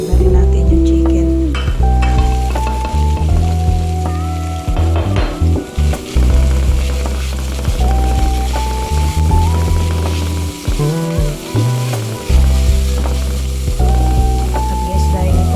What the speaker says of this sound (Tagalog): nasunod ko na yung sibuyas. Sunod na rin natin yung chicken.